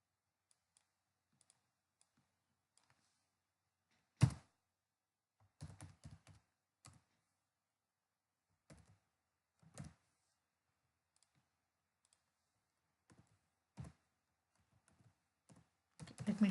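Sparse, quiet typing on a computer keyboard: isolated clicks and short clustered keystroke bursts spread across a near-silent room.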